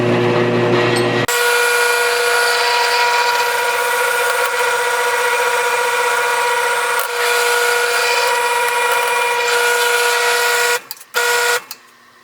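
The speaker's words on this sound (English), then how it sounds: "I'm gonna drill a pilot hole with a 3/16 bit" A drill with a 3/16 bit boring a pilot hole in aluminum for motorcycle axle sliders: a loud, continuous high whine that runs for about ten seconds before stopping in a few short bursts.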